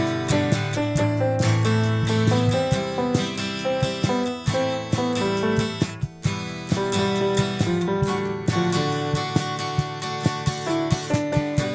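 A full band groove playing a song, with steady drums, strummed guitar and a lead melody together, loud and continuous with a brief dip near the middle.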